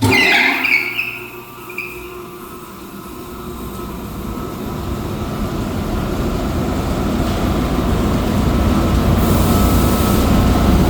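A very large 8-foot exhaust fan moving 35,000 to 40,000 CFM in a blasting room at a restoration shop gives off a steady, broadband roar that builds gradually and then holds loud and constant, with no talk.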